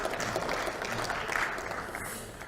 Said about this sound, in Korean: 우리 원내대표단 여러분들 박수 한번 좀 크게 쳐주시기 바랍니다.